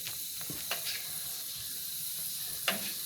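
Fenugreek seeds sizzle steadily in hot oil for a Kerala-style fish curry, a continuous bright hiss broken by a few soft pops and stirring taps.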